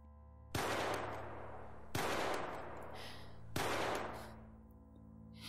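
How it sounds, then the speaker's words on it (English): Three loud gunshots, each a sharp blast followed by a long echoing decay, spaced about one and a half seconds apart with no voices. "The gunshot rang out before I could finish dialing 911."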